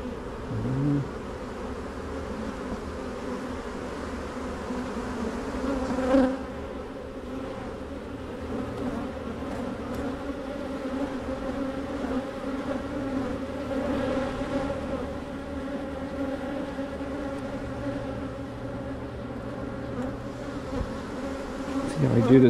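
A steady, dense hum of many honeybees buzzing close by around their hive, continuous throughout with a few brief louder passes near the microphone.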